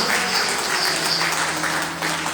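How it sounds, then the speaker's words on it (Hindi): An audience at a devotional storytelling session about Krishna claps together in dense, sustained applause that stays fairly even for a couple of seconds. "अब मेरे भगवान मुख्य बन गए तो थोड़ा तालियां तो बजाओ।"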